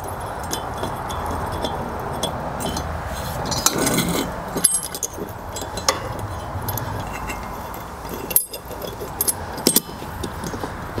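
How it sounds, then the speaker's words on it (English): Metal tools and bolts clink and rattle as a puller is bolted behind the seized pulley of a Ferris zero-turn mower, scattered light jangles and taps up close. "So I'll just reach under here and bolt the first one."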